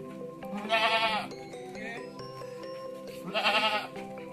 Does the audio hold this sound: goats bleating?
yes